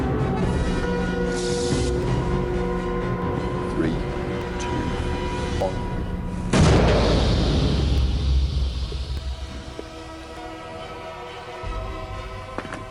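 A gunpowder mini cannon fires a tennis ball with one sharp, loud boom partway through, followed by a fading rumble, after several seconds of steady room hum.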